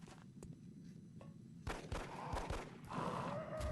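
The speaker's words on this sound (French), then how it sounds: "on va y aller au pistolet, on est beaucoup trop loin pour faire un tir au fusil à pompe" Pistol shots in the strategy video game XCOM: Enemy Within, a few sharp cracks mixed with impacts and action effects, growing louder and busier in the second half.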